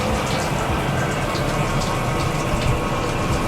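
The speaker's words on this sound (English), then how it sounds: "This is my shower." A shower with good water pressure at a glamping stay in New Zealand runs in a steady, dense hiss of spraying water, close and continuous without a break.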